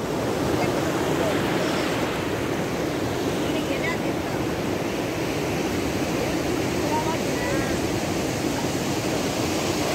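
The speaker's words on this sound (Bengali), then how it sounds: "অবিরাম ঢেউয়ের ধারা" Ocean waves breaking on Mandarmani beach, a steady, loud wash of surf with wind noise, continuous and unbroken with no distinct single crashes.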